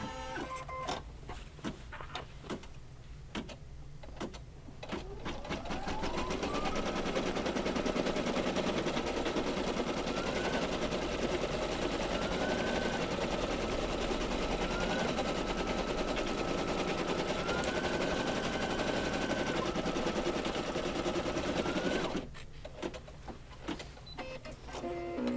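An embroidery machine sews a placement stitch for an in-the-hoop Valentine placemat, a rapid mechanical needle rattle rising to a steady loud whir for about fifteen seconds, with periodic brief pitch shifts as the hoop moves, then stopping.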